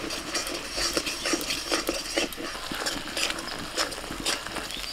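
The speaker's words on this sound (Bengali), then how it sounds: "সামান্য জল দিয়ে মশলাটা কষিয়ে নেব।" Spice masala of cumin, chilli and turmeric powders with salt sautéed with a little water in a pan for palak mutton, a steady close scraping and stirring with soft sizzle, spoon strokes clicking throughout, no voices.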